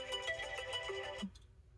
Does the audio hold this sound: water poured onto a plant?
no